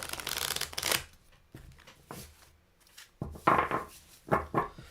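A tarot deck in the Marseille style being shuffled by hand, with bursts of riffling card flutter coming in two main rounds, close and fairly loud, separated by quieter handling noise and no talking.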